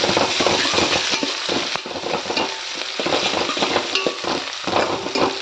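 Green chillies and onion frying in a pan and being stirred, a continuous crackling sizzle with scraping strokes throughout, close and fairly loud with no voices.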